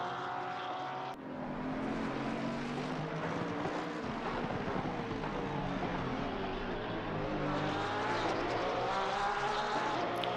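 Porsche GT race cars lap Zolder in a sim racing game, their engines droning and whining together in a continuous layered roar, with pitch rising and falling as they pass.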